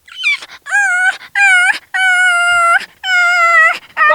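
A voice imitating a puppy, with a series of loud, close, high whimpering yelps and drawn-out whines separated by short gaps.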